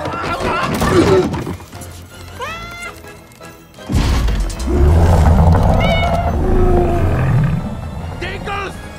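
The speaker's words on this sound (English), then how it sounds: "Oh, it's a cat!" A cartoon pet cat in an animated monster comedy yowls and roars loudly among energetic character voices, with a crash and scuffling amid the busy scene.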